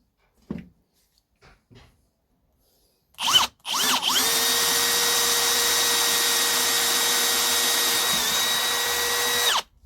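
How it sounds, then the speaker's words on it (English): A power drill whirs up and runs steadily at high pitch for several seconds after a few faint knocks, close and loud, drilling holes in a piece of wood. "So I'm just going to drill these 3 holes in."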